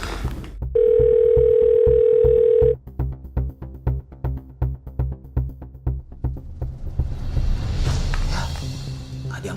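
A telephone gives a steady dial tone, then a rapid run of evenly spaced beeps as a call goes out and is not answered, ending in a muffled noisy hiss.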